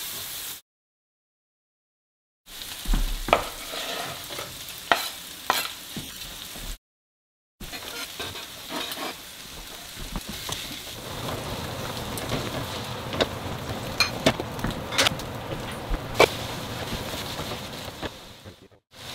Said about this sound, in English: we've been frying the vegetables for a few minutes